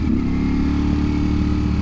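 A 2023 Ducati Streetfighter V4S with a big V4 engine from the Panigale runs under way, a loud, close, steady engine drone holding a constant pitch for the brief moment.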